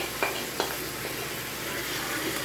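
Onion paste and gongura frying in oil for a gongura pickle, a steady close sizzle with a couple of soft stirring clicks near the start.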